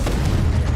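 A Confringo fire spell bursts in the game Hogwarts Legacy, a dense, booming blast that fills the whole short moment at steady loudness, with no talking.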